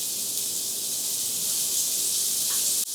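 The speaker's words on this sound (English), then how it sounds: "and we create that sizzle." Beyond Burger patties sizzling in hot oil in a hot pan, a steady bright hiss and crackle holding evenly for a few seconds before a sudden cut.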